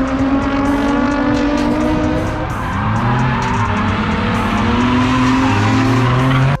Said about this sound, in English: And all sorts of fun cars came out to drift.